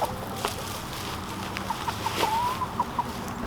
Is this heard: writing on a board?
no